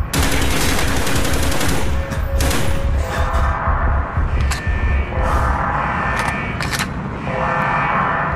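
Sustained automatic gunfire and explosive bursts from a Call of Duty: Black Ops firefight on Rebirth Island in the USSR, loud and dense throughout, with sharp cracks and rumbling booms layered over continuous fire.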